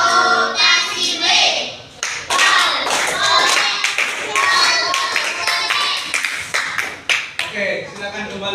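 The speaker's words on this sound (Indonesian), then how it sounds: "Kita kasih tepuk apa?" Fifth-grade elementary class clapping a patterned group cheer, sharp rhythmic bursts of many hands with short pauses between phrases, loud and close, interleaved with children's voices chanting along.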